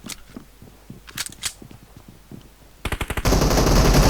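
Pistol fire in PUBG Mobile, with scattered sharp shots early on, then a fast burst of rapid cracks ending in a loud, sustained wash of gunfire noise, close and without voices.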